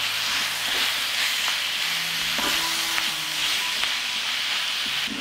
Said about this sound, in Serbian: I sve ću to promešati.